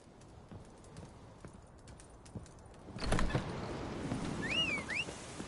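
Horse hooves clip-clop in The Witcher 3 video game, a faint steady clopping that grows louder and busier partway through, joined briefly by a high whinny-like squeal.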